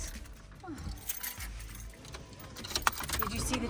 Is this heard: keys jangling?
yes